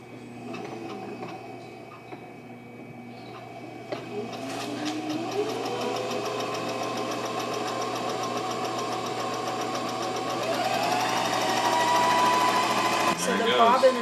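A home sewing machine stitching a DIY goat blanket hums and whirs steadily, rising in pitch and speed partway through, with a voice heard briefly over it.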